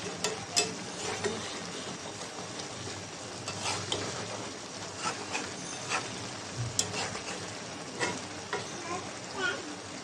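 Small mixed sea fish frying with potato, eggplant, garlic paste and coriander leaves, a quiet sizzle broken by repeated scraping and stirring strokes and occasional sharper clicks of a spatula against the pan.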